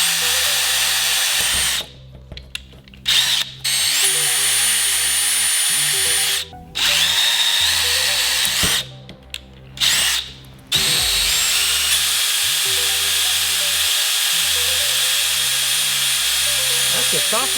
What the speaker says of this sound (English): And you can also use a screwdriver for this, but the drill is a little bit easier.